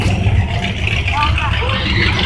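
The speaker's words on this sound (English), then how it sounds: "there's another car rolling by" A car rolls past at an outdoor car show, giving a steady, fairly close engine rumble mixed with background voices.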